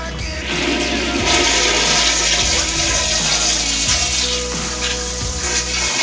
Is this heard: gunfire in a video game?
no